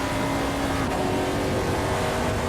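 Race car engine in the Sveg Raceway racing simulator game, a loud, steady droning tone that holds pitch, then shifts slightly partway through as the revs change, with no talk over it.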